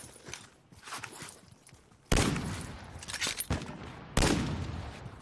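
Gunfire in Call of Duty Warzone comes as a few sharp, loud bursts spaced a couple of seconds apart, with faint shuffling game sounds between them and no talk.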